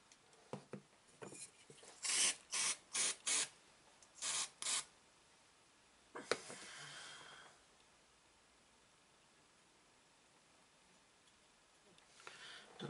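Aerosol glue is sprayed onto model minefield terrain for the Bolt Action tabletop wargame, heard as several short, sharp hissing bursts in quick succession, then one longer hiss, separated by near-silent pauses.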